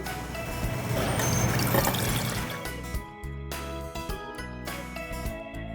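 Milk poured from a measuring cup into a pot while making homemade yogurt, a continuous splashing trickle that shifts partway through into lighter drips and clinks, close and fairly quiet with no talk.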